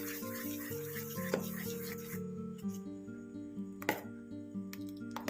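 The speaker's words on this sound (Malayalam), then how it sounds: "ഞാനിപ്പോൾ മുട്ടയും കൂടെ ഇട്ടിട്ട് നന്നായിട്ട് മിക്സ് ചെയ്യുന്നുണ്ട്" Oats dosa batter with egg mixed by hand in a bowl, giving a steady rubbing, scraping sound with a few light clinks, over a tonal background.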